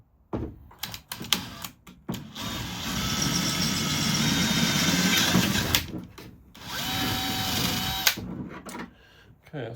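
A power drill runs in sustained bursts, boring a pilot hole to be enlarged for a 6mm bolt while fitting an AK4 body; the whirring comes close and loud in two long runs with short start-stop pulses between.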